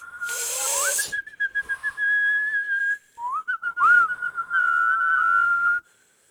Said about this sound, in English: I can't get the inhale whistle going at all.